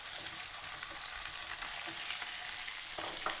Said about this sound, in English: put this straight into the hot oil in the pan, along with the button mushrooms